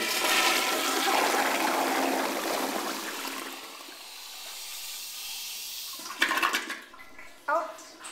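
A 1973 American Standard toilet flushes with a strong rushing, hissing water surge that slowly fades, followed by a few gurgling refill sounds and brief clunks near the end.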